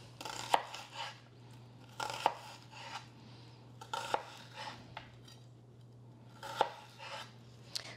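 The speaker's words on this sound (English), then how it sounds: "So we slice down, then we make a few slices across." A dull knife slices through a small Spanish onion on a cutting board, giving four or five distinct, irregularly spaced chops over a low steady hum.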